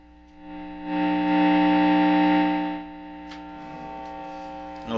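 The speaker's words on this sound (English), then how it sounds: "Now, let's put on some distortion." A Sire Larry Carlton S3 HSS electric guitar played through distortion rings out as a loud sustained chord for a couple of seconds, then fades into quieter lingering notes with a few faint ticks.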